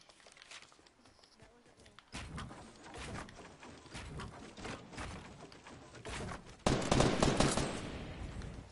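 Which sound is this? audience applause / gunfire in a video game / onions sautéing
gunfire in a video game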